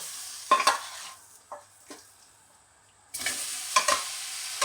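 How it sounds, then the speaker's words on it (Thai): Pork stir-fried in a hot pan with aromatics for Thai palo, bursts of loud sizzling and spatula scrapes, a quieter stretch in the middle, then the frying surges again. "เอาหมูลงคั่วเลยครับ"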